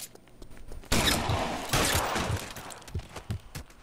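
Loud gunshots burst out in the L.A. Noire video game, two heavy blasts about a second apart followed by trailing impacts and rumble.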